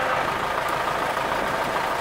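A tractor fitted with a tree-uprooting attachment sinks while it works, its engine running steadily throughout as a constant, fairly faint drone with no voices over it.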